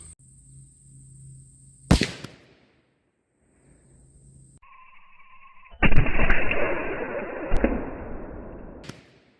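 .308 Winchester rifle fires Federal Power-Shok or Winchester Deer Season XP rounds into a test block at 100 yards: one sharp crack, then another loud report followed by a sustained burst of noise that tapers off.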